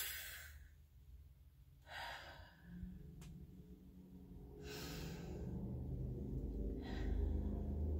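Deep breathing exercise with slow inhale and exhale breaths, several broad breathy bursts spaced a couple of seconds apart, fairly faint over a low background hum, no talking.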